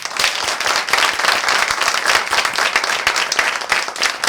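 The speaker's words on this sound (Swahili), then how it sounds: "Wapi makofi yenu?" A studio audience claps and applauds continuously, a dense, even burst of many hands close by that holds steady for several seconds without any talking over it.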